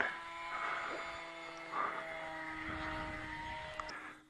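Scratch-built RC airplane motor running in flight in fly-by-wire mode at just over half throttle, a steady whining drone with sustained tonal hum, fairly constant in level with slight swells as the plane passes.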